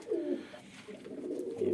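Soft, low coos from flying pigeons rise and fall close by, a short run of throaty calls.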